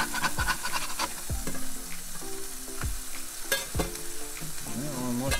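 Smash burgers sizzle steadily on a stovetop pan, broad frying hiss running throughout with scraping spatula clatters and knocks as patties are flipped, loud and close with no talk.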